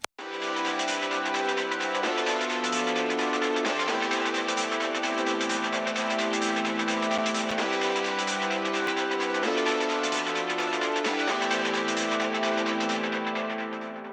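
Two synth layers playing together in the exit section of an electronic music drop made in FL Studio: sustained, bright, dense chords that shift every couple of seconds, loud and continuous with no voices.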